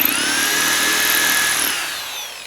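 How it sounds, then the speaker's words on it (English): A power drill whirs steadily at close range, its pitch holding then slowly winding down as it bores a small pilot hole in a camper frame. "So now we'll just carefully drill our pilot hole"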